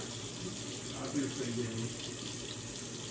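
A bathroom tap runs water during face washing, a soft steady close splash and hiss with a slight swell in the middle, faint and alone without talk.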